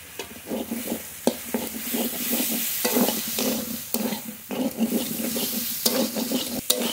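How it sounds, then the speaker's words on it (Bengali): A ground paste of green chilli, dried red chilli, garlic and cumin fries with potato and pointed gourd, as a spoon scrapes and stirs in quick, rhythmic strokes over a steady close sizzle. "আলু পটলের সঙ্গে মশলা খুব ভালো করে কষিয়ে নিয়েছি"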